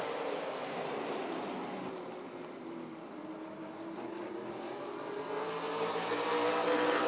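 NASCAR late model race cars roar around Rockford Speedway in a steady, loud blended engine drone that swells slightly toward the end as the pack passes, heard from the track without any talk.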